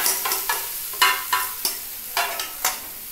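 Gram flour batter dropped into a hot pan holding fried papaya, spiced with salt, turmeric, sugar and cumin, a close sizzle broken by about eight sharp, evenly spaced scraping and spatula knocks, with no talk.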